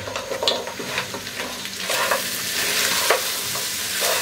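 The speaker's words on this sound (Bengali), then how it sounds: "মাংসগুলো দিয়ে এর সাথে একটু ভেজে নিব" Meat fries and gets stirred in a pot while biryani cooks: a steady close sizzle, broken by scraping stirs and soft clacks of the spoon against the pot.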